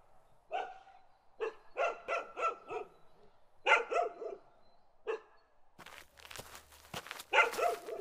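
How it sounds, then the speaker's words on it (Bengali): A black dog barks in a cartoon, with bursts of close, loud barks in quick clusters and single yaps, followed by a hiss of rain-like noise near the end. "হঠাৎ আমার ঠিক পাশ থেকে একটা কুকুরের ডাক শোনা গেল।"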